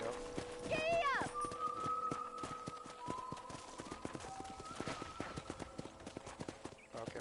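A horse gallops in the Red Dead Redemption video game, rhythmic hoofbeats clip-clopping steadily throughout, with a short whinny at the start and a voice calling out over the hooves.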